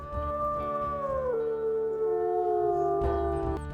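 A pack of wolves in the video game WolfQuest howls in long, sustained, sliding tones that overlap one another, loud and close, with no talking.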